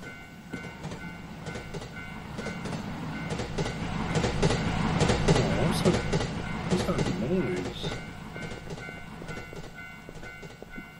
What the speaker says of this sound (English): just a train.